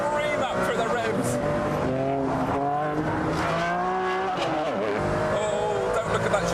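A Ferrari Enzo V12 revs hard on a race track, its loud, continuous engine note climbing and falling through the gears with rising harmonic whine, while someone talks over it throughout.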